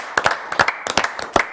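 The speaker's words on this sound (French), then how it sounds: "Allez, on peut à nouveau les applaudir." A short burst of clapping after a rugby win, a few hands applauding in uneven bright claps, close and lively.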